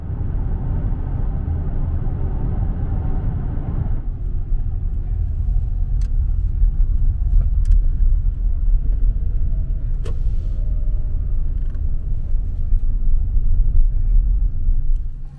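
A car drives along the road to Disney World with a steady, low interior rumble of road and engine noise throughout, plus a few faint clicks and no talking.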